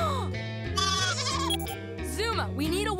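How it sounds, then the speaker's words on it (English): Cartoon goats from PAW Patrol bleat repeatedly in wavering, overlapping cries over a steady music bed, loud and close, with voices mixed in. "Mayor Goodway told me my goats were here"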